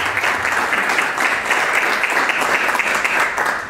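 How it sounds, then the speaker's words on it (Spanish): Strong applause from the audience at a graduation ceremony greets a graduate as she comes up to speak. A full, even wash of clapping runs loud and steady the whole time, with no voices over it. "fuerte aplauso por favor por ella"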